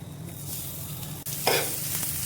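Mashed boiled potato stuffing for aloo paratha being sautéed and stirred in a pan, giving a steady soft sizzle with scraping stir strokes, close and alone, growing slightly louder partway through.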